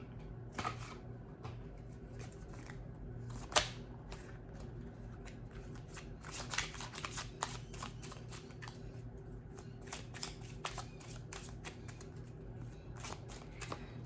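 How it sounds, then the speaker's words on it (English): Romance angel oracle cards are shuffled by hand, a steady soft riffling and papery flicking with occasional sharper slaps, close and fairly quiet over a low background hum, with no talking. "Let's pull a couple of romance angel cards here for you"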